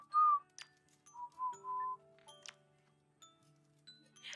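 Someone learning to whistle produces short, thin, wavering whistled notes separated by breathy puffs and small clicks, fairly quiet and close with pauses between attempts.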